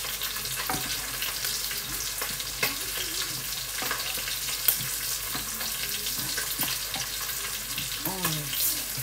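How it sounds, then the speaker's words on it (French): Courgettes (zucchini) cut up and cooking in a pan, giving off their water, with a steady close sizzle and frying hiss broken by occasional stirring clatter and utensil scrapes. "Je coupe mes courgettes, qu'elles puissent cuire, dégorger un petit peu de leur eau."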